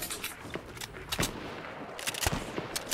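Bursts of gunfire from Fortnite Mobile crack out in several sharp, loud shots and short volleys, some near and some farther off, with faint movement sounds between them.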